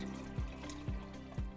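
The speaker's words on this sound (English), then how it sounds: "And now I'm gonna add this right to the hot water." Red egg dye for Greek Easter eggs is poured into hot water, making a faint, quiet trickle against a soft background with a few low thumps.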